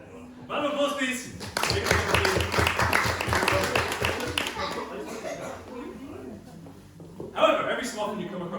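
A live audience at a shadow-puppet storytelling show applauds for about three seconds, with talking just before and after the clapping.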